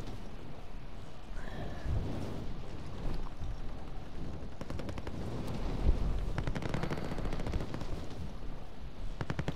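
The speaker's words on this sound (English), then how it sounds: "I'm hearing gunshots" Gunshots and machine gun bursts sound throughout a Call of Duty Warzone Juggernaut battle royale match, a steady rattle of distant and mid-range automatic fire with sharper single shots, growing denser toward the end.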